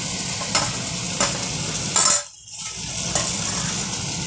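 Eggs dropped into a pan of potato curry cooked with cashews and sour yogurt, giving a steady close sizzle with a few stirring clicks, then a brief dip where the frying noise drops away before resuming.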